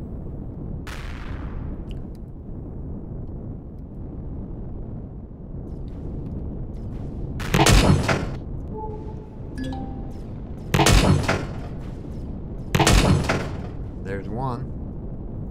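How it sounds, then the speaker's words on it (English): A rocket turret fires in the video game Empyrion Galactic Survival Reforged Eden, three loud, sharp blasts spaced a few seconds apart over a low ambient hum, with someone talking briefly between them. "That was the rocket turret doing most of the damage."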